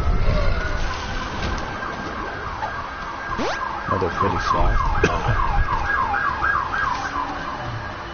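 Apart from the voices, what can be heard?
ambulance siren passing by outside the house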